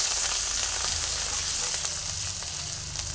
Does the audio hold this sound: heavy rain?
no